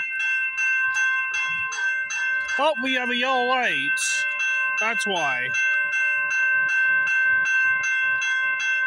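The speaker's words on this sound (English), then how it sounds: "we got this train coming down the line" A CP train approaches at night, sounding two long horn blasts over a constant ringing crossing bell, with a brief voice speaking.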